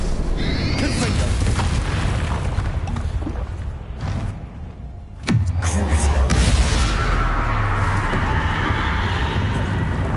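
The Confringo fire spell going off in the wizarding video game Hogwarts Legacy: a sharp, loud blast that drops into a deep rumbling boom, set among busy game sounds.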